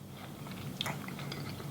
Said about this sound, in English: Sorry for the chewing.